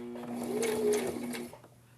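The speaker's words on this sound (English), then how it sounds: "Alright, so I'm just going to sew to the corner" A sewing machine stitches a fabric face mask with elastic toward the corner, a close, steady motor whir with fast needle chatter that swells slightly, then stops abruptly about three-quarters through, leaving quiet room tone.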